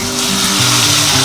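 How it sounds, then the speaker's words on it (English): A T-bone steak fries in a hot pan at a cafe, giving a loud, steady, close-up sizzle and crackle with no voices. "sizzling T-bone steak"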